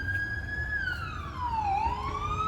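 A police SUV siren wails up close, its pitch sweeping slowly down and then climbing again over a low traffic rumble on Yonge Street in midtown Toronto.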